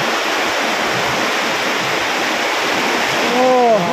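Floodwater overflowing and rushing across a farm field where calamansi trees grow, a steady broadband roar of flowing water close by, with a brief tonal whine near the end.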